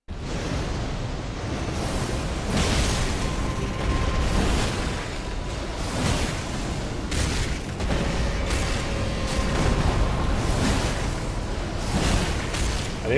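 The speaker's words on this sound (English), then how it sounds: "What is all those explosions?" Continuous rumbling booms and bursts from explosions in the video game Elden Ring, a dense, loud barrage of blasts with whooshing debris that never lets up, rolling on steadily with no voices.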